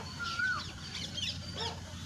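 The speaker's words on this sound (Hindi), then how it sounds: "तो भाई हमने थोड़े से मुर्गे पाला रखे" A few backyard chickens kept as fowl, heard as faint, scattered clucks and short rising calls over steady outdoor background noise, with no talk.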